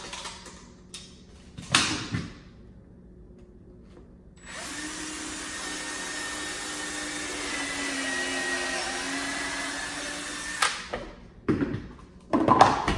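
A power drill bores a knob hole through a cabinet door on a job site, using a knob jig; one steady whirring run of about six seconds, fairly close, between quieter handling clatter before and after.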